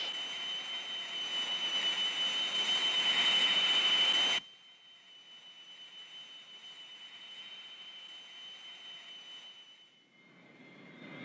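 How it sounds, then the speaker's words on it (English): Jet engine of an Air Force training aircraft during a power-on stall series, a loud high-pitched whine and roar that suddenly drops to a quieter steady drone, then swells again near the end. "Blake, let's see a power on stall series."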